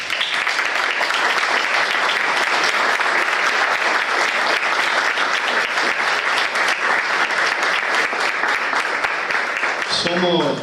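A large audience gives sustained, loud applause at a talk held by a Mexican residents' club, dense clapping that holds steady for about ten seconds before a voice starts speaking at the end.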